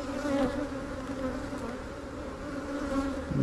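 A dense, steady buzz of many agitated honeybees swarming close by at their hive, droning continuously without pause.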